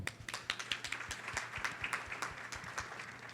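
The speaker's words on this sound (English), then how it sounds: "Please, let us give a warm round of applause for Dr. Mohammed Rabia." A small audience at a panel discussion on people management claps sparsely, with distinct, separate hand claps close by at a quiet level, lasting a few seconds.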